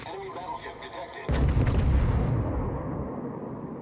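Naval artillery fires during a World of Warships battle. Quieter game sounds come first, then a single heavy, booming salvo lands and rumbles away.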